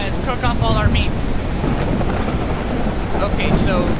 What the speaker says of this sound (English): In the middle of a lightning storm